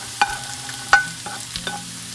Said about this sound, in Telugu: దీనిలో సాల్ట్ కానీ ఏమీ యాడ్ చేయకుండా ఇవి ఒక three to five minutes fry చేసుకోవాలన్నమాట